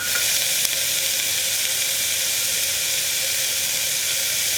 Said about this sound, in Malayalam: ഇനി ഇതൊന്ന് വഴറ്റിയെടുക്കാം.